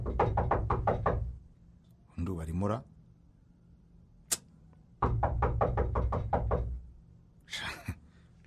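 Knocking on a door in a radio drama, delivered in two bursts of about six quick, evenly spaced raps. Short spoken exchanges fill the pauses between the bursts.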